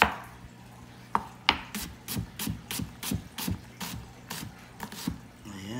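A knife dices an onion on a cutting board, making a rapid series of close, sharp chops in an uneven rhythm with no one speaking.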